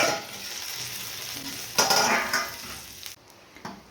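Stuffed green chillies fry in a pan with a loud, close sizzle as a spatula stirs and clinks against the metal. The hiss drops away sharply near the end, leaving faint residual crackle.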